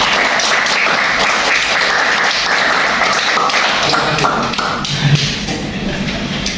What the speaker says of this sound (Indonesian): Mari kita berikan tepuk tangan kepada kita semua yang telah hadir pada pagi hari ini.